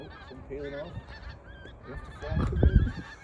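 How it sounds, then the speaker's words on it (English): A skein of geese flying in V formation honks overhead in a loose chorus of nasal calls, growing louder toward the end as the flock passes. "Got a line of geese, apparently it's called a skeiner geese, in V formation"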